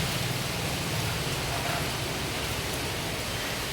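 Morning rain falls outside in a steady, even hiss that stays at the same loudness throughout, with no voices.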